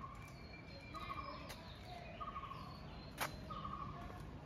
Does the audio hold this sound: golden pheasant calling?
yes